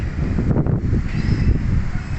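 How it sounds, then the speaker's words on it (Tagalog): Strong wind gusting through trees in McKinley West, Taguig, a steady loud broadband rush with buffeting on the microphone and no voices over it. "Hangin, oh. Tingnan niyo yung mga puno."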